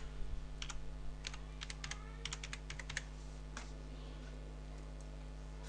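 Typing on a computer keyboard, a quick run of close, sharp key clicks that bunches up early, then thins to a few scattered taps over a steady low hum.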